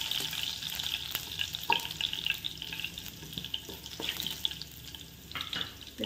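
Finely chopped garlic frying in a pan over a medium flame, a steady soft sizzle with occasional stirring scrapes, close and alone with no talking.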